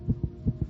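A young child's heart beats fast in low, soft double thumps, close and steady, with nothing else heard.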